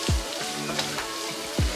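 Green brinjal pieces frying in a pan for badanekayi palya, giving a steady close sizzle with a couple of low thumps at the start and end, and no voices.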